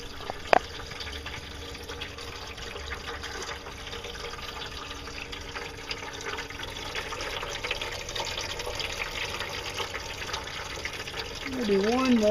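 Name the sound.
water flowing from a pump for gold prospecting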